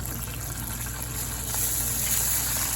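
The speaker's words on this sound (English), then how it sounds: "And you make sure water gets in with all the grains of rice." Water pours steadily into a pot of medium-grain baldo rice for Turkish pilaf, a close, continuous gushing fill that grows slightly louder, with no talking.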